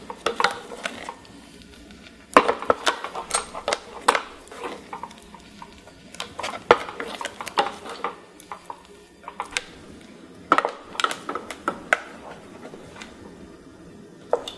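A thick black sesame seed porridge being stirred in a pot over low heat, with intermittent spoon scrapes and soft knocks against the pot at an irregular pace, fairly close and quiet.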